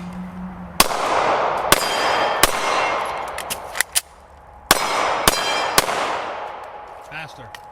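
Several sharp gunshots ring out from a handgun fitted with an AIMWIN PE320 enclosed emitter optic, some followed by the bright metallic clang of a steel gong target, spaced irregularly with long ringing tails and a brief pause for a reload.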